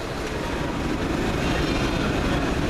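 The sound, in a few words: class 31 diesel locomotive passing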